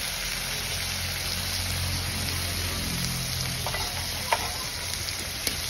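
Mustard paste with salt and turmeric sautés in a pan, a steady close sizzle and crackle running throughout with a couple of faint clicks near the end, no voices.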